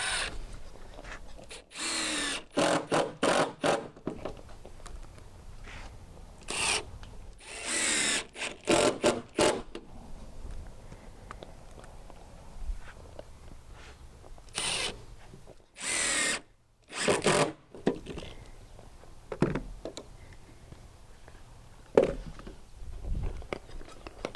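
Power drill driving screws into deck boards while building a deck, in a string of loud whirring bursts of a second or two each, separated by short pauses and handling clatter, with no talk.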